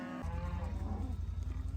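Cattle on a farm give a single deep, drawn-out moo, close by and fairly quiet, with no other sounds around it.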